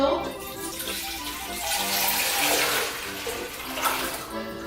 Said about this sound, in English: take 10 cups of water, which I pre-measured into this glass bowl, and pour it into our pot